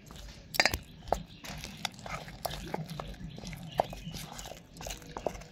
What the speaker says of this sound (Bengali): এবার আমি এগুলোকে ভালো করে মিশিয়ে নেব